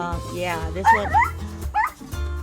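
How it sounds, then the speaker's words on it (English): Indoors near an orchid collection, a dog barks and yips at people walking past outside, several sharp whining barks in quick bursts at moderate distance while a person talks over them. "That's my dog barking at the people are walking."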